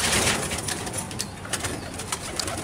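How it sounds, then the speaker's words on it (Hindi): Pigeons cooing and fluttering on a low rooftop as a flock is let out for a pigeon-flying contest, a dense, steady bird chorus with soft wing flaps close by. "ये इनके कबूतर अब खोल रहे हैं"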